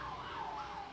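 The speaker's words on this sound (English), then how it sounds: "Police sirens." Police siren wailing at moderate distance, a steady rising and falling tone over low traffic rumble, heard alone without talk.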